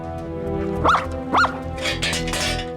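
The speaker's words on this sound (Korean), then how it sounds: "계속 짖고 있는 것은 아직 핸들러가 도착하지 않았다는 뜻이다" A search-and-rescue dog keeps barking while waiting for its handler, two distinct close barks over a steady background hum, followed by softer noisy rustling.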